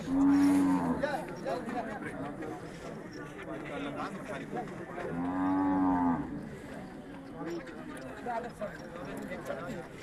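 Bulls moo twice at a cattle show, each long, low call loud and near, while people talk and hooves shuffle in between.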